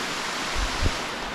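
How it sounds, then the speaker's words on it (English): Minnhaha Falls in Rabun, a waterfall reached on a hike, gives a steady, broad rushing roar with a couple of soft low thumps underneath. "this is absolutely one of the most gorgeous waterfalls we've been to"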